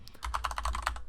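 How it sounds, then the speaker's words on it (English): Typing on a computer keyboard, a quick run of about a dozen crisp key clicks in steady succession, close and clear over a low background hum. "I'm going to go ahead and just start typing out the rest of these"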